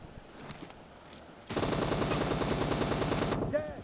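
A sustained burst of rapid automatic gunfire in a mobile shooting game, loud and close, following a few quieter shots, with faint talk underneath at the start.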